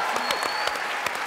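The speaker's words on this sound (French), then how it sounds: "Applaudissements pour nos 2 témoins qui nous quittent." A French television studio audience applauds two departing guests, a dense, continuous burst of clapping with a voice briefly heard over it.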